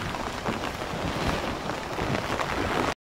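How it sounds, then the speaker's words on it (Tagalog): Strong wind roars and buffets the microphone continuously, a loud broadband rush with gusty low rumbles and no voices, cutting off abruptly near the end. "Lakas pa rin ang hangin."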